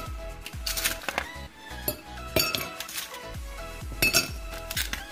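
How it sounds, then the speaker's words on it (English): About four ice cubes dropped into a glass cup: a quick series of bright clinks and knocks against the glass, close and fairly loud, with no talking. "first I'm going to add some ice to my glass cup"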